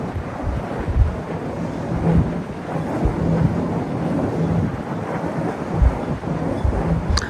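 Strong, steady wind roaring and buffeting a microphone outdoors on a cold night, loud and continuous with low rumbling gusts throughout.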